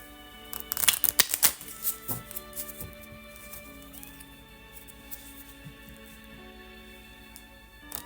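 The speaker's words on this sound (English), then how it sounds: "we'll shuffle the moonology and we'll see what we get for a card for you." A Moonology oracle card deck is shuffled up close, with a quick burst of riffling flutters early on followed by softer sliding and tapping of the deck.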